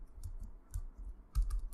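Computer keys clack in short irregular bursts as code is typed, close and crisp, a quick run of taps ending in a louder cluster.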